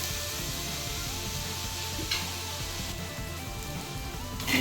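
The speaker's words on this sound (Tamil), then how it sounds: "இது கூடயே கருவேப்பிலையும் சேர்த்து நல்லா வதக்கிக்கிறேங்க" Shallots and curry leaves sauté in a hot pan for egg thokku, a steady close sizzle with a faint clink or stir near the end, no voices.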